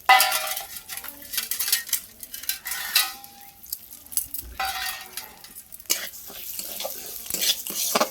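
Mung dal and fried vegetables are stirred in a kadai with irregular scraping and clinking of a spoon against metal, under a soft background sizzle, with no voices.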